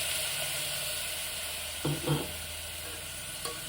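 Masala sizzles softly in a pan, a low steady hiss with a couple of brief scraping stirs and a small clink while it is mixed.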